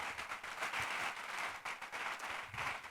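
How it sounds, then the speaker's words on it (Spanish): Congregation applauding in a church, a fairly faint, steady wash of many hands clapping at a distance, continuing evenly without voices on top. "Dale un aplauso a Él si lo puede hacer"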